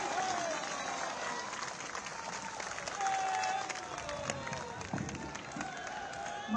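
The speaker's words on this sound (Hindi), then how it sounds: "हम सभी खड़े होकर जोरदार तालियों के साथ धन्यवाद ज्ञापित करें" A standing audience gives loud, sustained applause at the closing session of a Berger Paints manufacturing unit event, a dense wash of clapping with voices audible beneath it.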